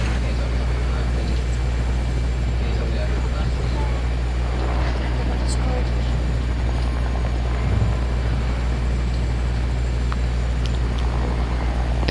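Aircraft flying in the video game Fortnite, a steady loud low engine drone with a continuous rotor-like hum throughout, while voices talk over it.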